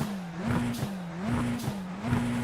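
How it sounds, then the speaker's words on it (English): An iRacing Radical SR10 race car engine hums with repeated turbo whooshes and flutters between gear shifts at Road America, close and mid-level, with no talking. "Oh, it makes turbo sounds."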